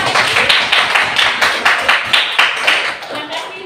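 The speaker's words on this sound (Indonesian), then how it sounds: "Oke, kasih tepuk tangan." Teachers at an elementary school session in Bantan clap together in a steady, fairly close round of applause that tails off near the end.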